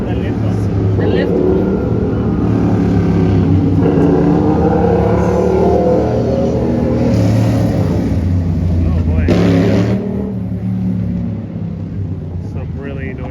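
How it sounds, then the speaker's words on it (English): Loud motorcycle engines roar and rev along a busy Toronto city street, a continuous close rumble that swells and fades with traffic, while a voice speaks briefly over it. "Some really noisy motorcycles here."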